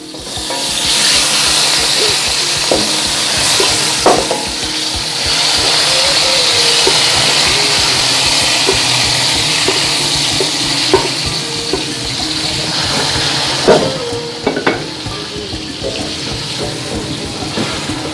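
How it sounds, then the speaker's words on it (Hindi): Mutton frying loudly in hot oil in a karahi, with a dense continuous sizzle and crackle, occasional utensil knocks and scrapes, and a faint voice in the background near the end. "अब हम इसमें हम गोश्त डाल देंगे"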